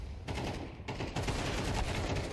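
Counter-Strike gunfire in a professional esports match: rapid bursts of shots crackle loudly and continuously, with sharp cracks over a dense rumbling background.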